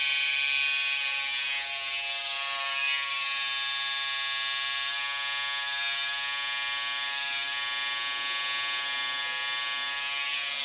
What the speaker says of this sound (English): Using just the edge of the trimmer